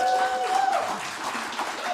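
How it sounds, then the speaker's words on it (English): Live studio audience applauding new bass players from a university Appalachian string band, a broad wash of clapping with a faint instrument tone at the start and speech mixed in. "y'all give them a big old round of applause"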